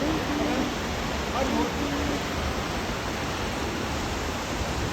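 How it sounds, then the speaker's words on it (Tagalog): Ruby Falls waterfall rushing as a steady, dense broadband roar that stays unbroken and fairly close throughout. "At last, we made it to Ruby Falls, guys."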